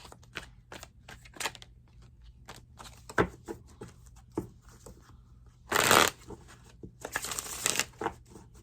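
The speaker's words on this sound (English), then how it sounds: "Let's get a nice, good shuffle." Tarot cards are shuffled with soft flicks and taps, then two louder riffle shuffles, close up with no voices.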